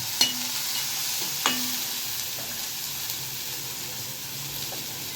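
Steady hiss of spices sizzling in hot oil, close by, with a couple of sharp clinks and a stir partway through; no voices.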